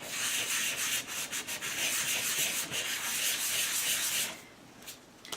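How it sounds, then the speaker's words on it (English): A vinyl record is sanded by hand with sandpaper, a steady, loud, close rasping scrub with rhythmic back-and-forth strokes that drops off sharply near the end, leaving a few light scrapes. "then when I get done sanding it"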